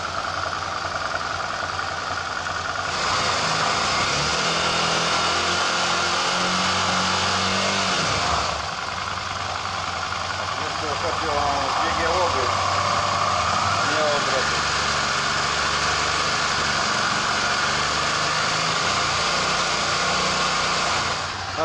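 A Suzuki V-Strom 650 motorcycle engine idles steadily throughout during carburetor synchronization work, a continuous close mechanical hum with vibration and no breaks.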